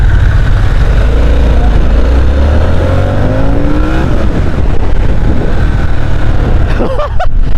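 A Harley-Davidson Sportster S engine on a test ride, loud and close, with rising revs climbing through the gears under steady rumble and wind.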